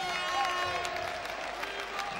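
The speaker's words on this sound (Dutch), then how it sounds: "Nog een heel dik applaus." Studio audience on a 1983 North Television reunion show for a band applauds steadily throughout, a moderately quiet, even wash of clapping with some crowd murmur and faint tonal music underneath.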